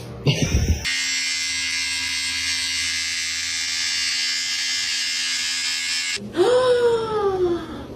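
An electric shaver buzzing steadily as a beard is shaved off, close and loud for several seconds, with brief voice sounds before it starts and after it stops.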